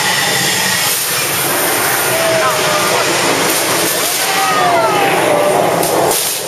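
On a theme park tram tour, a simulated subway train crash effect plays as a loud, continuous rumbling roar with hissing steam and high metallic squeals, while voices talk over it.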